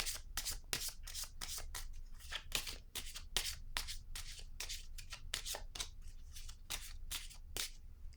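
Tarot cards are handled and shuffled with a steady series of soft, close riffles and flicks that repeat in an irregular rhythm. The sound is faint and heard alone, without speech.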